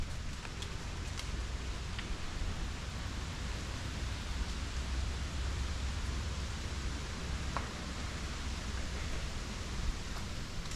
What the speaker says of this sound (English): It's a little breezy today, so the trees are making some noise.